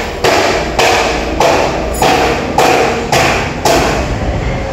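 Seven loud, evenly spaced metallic thuds as a hammer strikes a tight tractor steering sector part to loosen it, each blow close and heavy with no talking.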